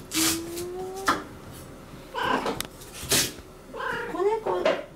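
Cats meow in a rescue cat cafe set in a renovated old Japanese house, with several rising, drawn-out calls close by, interspersed with soft rustles and people talking.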